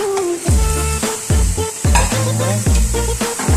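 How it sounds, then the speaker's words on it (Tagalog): Shrimp being stirred in a hot pan for Arabian mahjboos, with loud, steady sizzling and repeated scrapes of the spoon in a regular rhythm. "Haluin natin ng mabuti."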